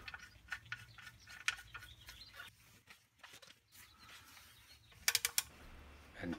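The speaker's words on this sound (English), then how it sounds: "Reinstall the drain plug." A hand ratchet clicks while a drain plug is reinstalled on a Toyota Lexus V6 during an oil change, a soft, quiet metallic clicking with small rattles and a brief brighter burst of clicks near the end.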